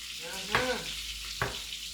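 Carrot pieces fry with fish in a pan, giving a steady sizzle punctuated by two brief stirring scrapes.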